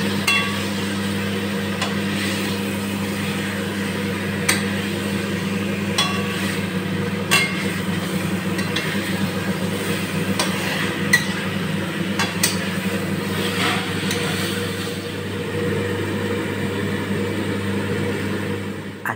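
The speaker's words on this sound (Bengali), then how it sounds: "এবার ভেজে রাখা আলু আর ভেজে রাখা লেগ পিসগুলো মশলার মধ্যে দিয়ে দেওয়া হচ্ছে। এখন হবে জোর কদমে কষানো" Fried potatoes and chicken leg pieces are stirred hard into masala in a pan, under a steady low cooking hum, with repeated clinks and scrapes of the spoon against metal.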